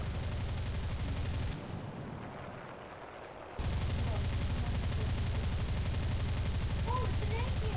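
Aircraft guns fire in a video game as a dense, loud barrage of rapid shots. The firing drops out briefly, then resumes just as steadily.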